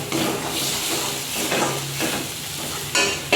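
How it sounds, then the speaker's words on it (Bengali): Ground cumin, coriander powder and a pinch of sugar sizzle steadily in a hot pan while being stirred, with close scraping strokes and a brief clatter near the end. "এবার ভালো করে কিন্তু মিক্স করে নেব।"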